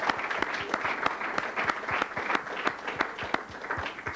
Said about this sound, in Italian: un grandissimo ospite che io gradirei accogliere con un applauso